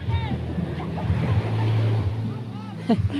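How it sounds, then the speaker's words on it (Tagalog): Large sea waves wash and surge near a small fishing boat, mixed with gusty wind buffeting the microphone and a low, steady hum underneath; faint voices come and go. "Laki ng alon, dogs. Nagkakaalon."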